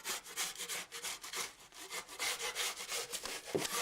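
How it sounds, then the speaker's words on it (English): Six-inch taping knife scraping loose, peeling paint up the side of a drywall wall, a close, steady run of gritty rasping strokes that repeat in quick succession without pause, with no talking over it. "use my 6-inch taping knife and just basically go right up the side of this wall and strip away"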